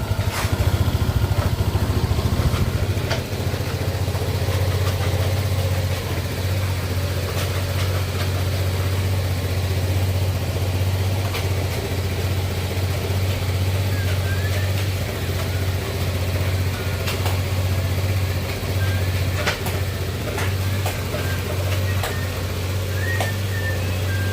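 A Honda Click 150 scooter engine idles steadily and close by, a constant low putter that stays even throughout, slightly louder at the very start.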